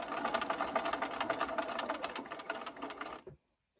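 A sewing machine stitches fabric a quarter inch from the edge in a close, steady run of rapid needle strokes for about three seconds before stopping abruptly into silence.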